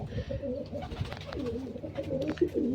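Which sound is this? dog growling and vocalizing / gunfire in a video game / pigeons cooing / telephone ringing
pigeons cooing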